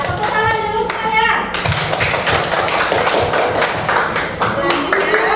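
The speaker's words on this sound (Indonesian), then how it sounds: "Tepuk tangan dulu semuanya" A classroom of children claps hands together, a busy burst of overlapping slaps that starts near and loud and carries on steadily after a teacher speaks at the start.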